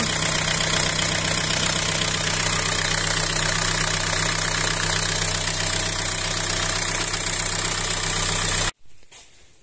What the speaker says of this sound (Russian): Ну что, завели мотор